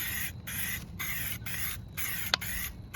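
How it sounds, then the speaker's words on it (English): Aerosol can spraying Plasti Dip onto car rims outdoors on a windy day, a series of short hissing sprays in a steady rhythm with brief gaps between bursts, close and clear over wind rumble, no talk. "You don't want to spray too much"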